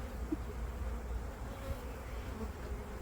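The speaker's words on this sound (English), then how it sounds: "there's a real good chance we've caught a swarm" A honeybee swarm settled inside a bait hive gives a steady, close, continuous buzzing hum that holds even throughout, with no voices.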